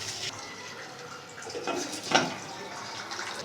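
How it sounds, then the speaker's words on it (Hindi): Water pours into a pot of beef being cooked for a beef and potato curry, a soft, continuous rush with a brief louder splash near the middle and a faint room background. "इसमें मैं शामिल कर दूंगी तकरीबन 2 कप के करीब पानी"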